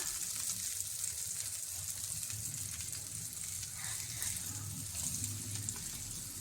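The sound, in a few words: food frying in pan after being flipped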